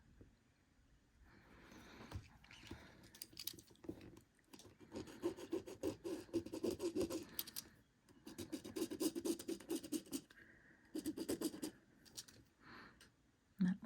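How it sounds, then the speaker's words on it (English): Scratchy rubbing strokes of a marker drawing seam lines on fabric pieces for a boxy pincushion, repeated close bursts of rasping friction with short pauses between them, no voices. "what I'm doing here is I am marking the seam lines"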